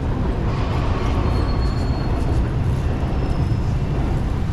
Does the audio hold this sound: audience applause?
no